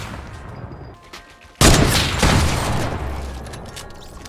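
A single heavy sniper rifle shot in Fortnite cracks out loud and close, then a long booming tail fades slowly behind it.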